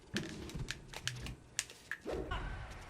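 Clacky controller buttons being pressed rapidly while playing Super Smash Bros. Melee online, a close run of sharp plastic clicks in quick irregular bursts with no talk.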